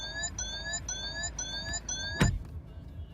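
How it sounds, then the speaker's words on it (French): A DS7 Crossback Performance Line's door-open warning chime repeats in a steady series of bright electronic tones as the door opens, then a dull thump sounds and the chiming stops. "J'ouvre la porte. L'alarme automatiquement s'affiche."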